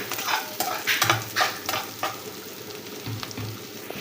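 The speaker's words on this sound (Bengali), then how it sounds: "আমি আরেকটু ভালোভাবে হাতা দিয়ে নেড়ে দিচ্ছি" A ladle stirs a small-fish curry in a kadai, with several quick scraping strokes against the pan over a soft, steady sizzle and no talking.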